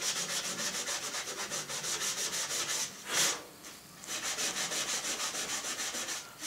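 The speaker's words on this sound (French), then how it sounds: "Allez, on gratte un peu plus." Sanding patches on a surface with rhythmic back-and-forth rubbing strokes, a steady run of even passes, a short pause with a single knock, then the strokes resume at the same quick pace, close and alone.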